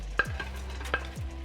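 Pork is stirred into sweet and sour sauce in a hot pan: two quick spatula scrapes over a soft, steady sizzle, close and fairly quiet.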